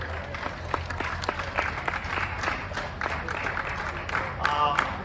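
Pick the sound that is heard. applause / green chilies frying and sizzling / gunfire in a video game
applause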